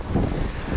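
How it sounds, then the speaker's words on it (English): Roaring wind gusts of Hurricane Katrina batter the microphone, a loud broadband rush with heavy rain noise, continuous and close, with no voices. "we're still getting some wind gust up here above 40 miles an hour"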